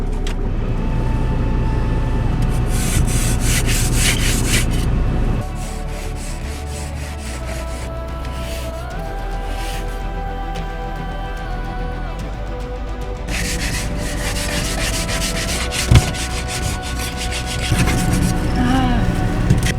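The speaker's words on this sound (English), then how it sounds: "Now we gotta scrape the inside of the window." Frost is scraped off the inside of a van window during extreme winter travel toward the Arctic in Alaska. Repeated loud rasping scrapes come in bursts close by, with an engine rumbling underneath.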